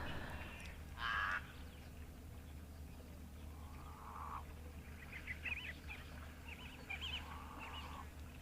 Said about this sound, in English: how much noise the crows and the lapwings are making